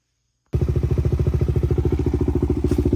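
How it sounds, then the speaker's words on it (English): A Honda XR400 motorcycle engine, its carburetor freshly rebuilt, starts up after a short silence and settles into a steady, even idle with a close, loud, regular single-cylinder thump and no talking. "So it seems to idle pretty nice."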